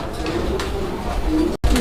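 Pigeons coo softly in a loft or market setting, low murmuring calls overlapping for a couple of seconds amid background noise, with a quick thump near the end.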